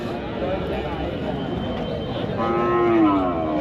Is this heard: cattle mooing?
yes